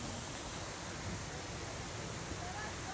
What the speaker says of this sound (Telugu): ఇక్కడ వాటర్ ఫాల్స్ దగ్గరికి వచ్చాము.